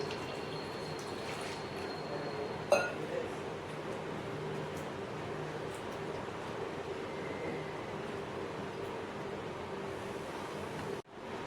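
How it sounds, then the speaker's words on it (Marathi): Cut ridge gourd pieces are washed in water in a kitchen vessel, giving a steady, fairly close rushing and sloshing wash with a sharp knock near the start and another clunk at the end. "आपण आता याच्यामध्ये पाणी टाकून हे फोडी छान स्वच्छ धुवून घेऊया"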